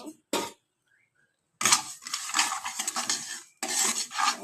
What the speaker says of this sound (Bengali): কড়াইটা গরম করে আমি ডালটাকে দিয়ে দিয়েছি